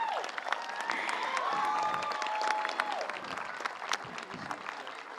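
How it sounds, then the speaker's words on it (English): Sustained audience applause at an outdoor community college commencement ceremony in Kauaʻi, a dense wash of many hands clapping with a few scattered whoops, steady and fairly close throughout. "a nice round of applause"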